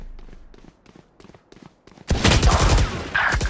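Gunfire in Call of Duty Warzone, a few faint, quiet shots and then a sudden loud, rapid burst of fire that continues to the end.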